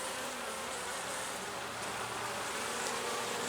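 Honey bees swarm over an open hive during an inspection, a dense, steady buzzing that fills the whole clip at moderate volume, with no voices heard.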